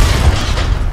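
A loud, brief explosion in the survival shooter H1Z1, a dense low boom filling under a second with broadband rumble and no talk.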